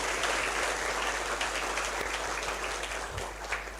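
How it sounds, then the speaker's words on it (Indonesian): Indoor applause at a food policy outreach event, with a soft, continuous wash of clapping from a crowd heard at moderate distance over a low steady hum. "Iya, tepuk tangan."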